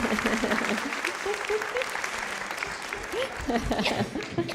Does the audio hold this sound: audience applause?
yes